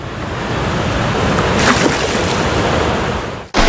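Water roars from the opened sluice gates of the Navagiri Reservoir into the Kala Oya river, a loud, steady rushing wash that fills the clip without a break and cuts off abruptly near the end.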